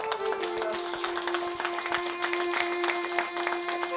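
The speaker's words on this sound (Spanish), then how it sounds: "¿Cuántos dan palmas a Cristo Jesús?" A church congregation in Ayacucho claps hands in a brisk, steady rhythm over a sustained droning musical tone, many claps blending into a continuous patter throughout.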